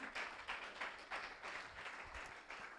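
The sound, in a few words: congregation applause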